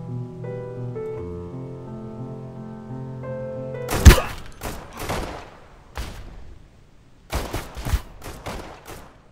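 Gunfire in a survival video game: soft music gives way to a loud, close burst of shots, then a few more scattered volleys and short bursts.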